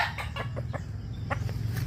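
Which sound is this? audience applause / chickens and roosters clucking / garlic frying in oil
chickens and roosters clucking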